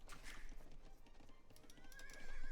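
A horse neighs in Age of Empires II, a clear whinny near the end over faint hoof clip-clop and quiet game ambience, with no voices.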